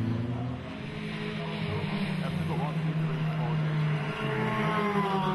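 Ford Fiesta race cars in a championship race at Cadwell Park, engines droning steadily and fairly loud as the cars pass, with a commentator talking over them throughout.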